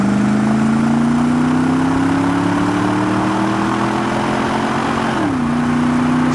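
A 1999 Pontiac Firehawk with a 5.7 LS1 V8 and automatic transmission accelerates at part throttle, its loud steady drone climbing in pitch before dropping suddenly at a gear shift, then pulling on.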